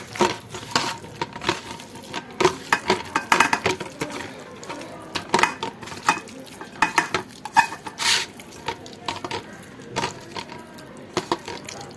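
Chicken worked by hand or spoon with ginger-garlic paste in a metal bowl, giving a steady run of close, wet squelches and sharp clicks of metal against the dish.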